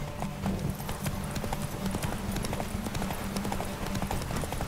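Horse hooves gallop in The Witcher 3: Wild Hunt, a rapid rhythmic clip-clop of hoofbeats running steadily at a moderate level, with a low rumble beneath and faint voices briefly over it.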